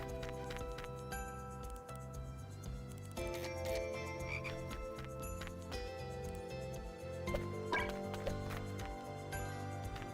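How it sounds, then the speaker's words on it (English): A frog croaks repeatedly somewhere hidden in a video game, the steady croaking carrying under dense, continuous game music with bell-like tinkles. "There's a frog hidden around here. I can hear it."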